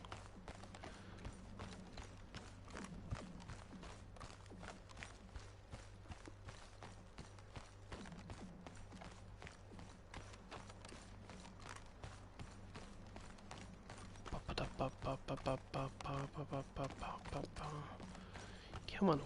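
Horse hooves clopping at a steady trotting rhythm in Red Dead Redemption 2, running through most of the stretch under a man's chatter, with denser, louder hoof strikes near the end.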